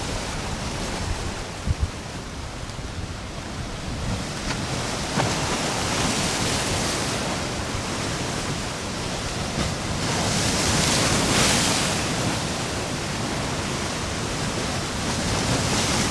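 Ocean surf crashing onto the shore at a roadside spot in Central Florida, a steady broad roar of breaking water with wind noise, swelling slightly in the later part, with no voices.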